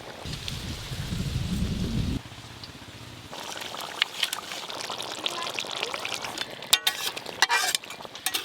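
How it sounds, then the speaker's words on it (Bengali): Wind gusting around an outdoor clay stove, heavy low buffeting at first that gives way to a rougher, hissing bluster with scattered crackles and knocks. "উনুনটা কিন্তু জ্বলছে খুব সুন্দর, কিন্তু যা হাওয়া হচ্ছে এদিক ওদিক হচ্ছে।"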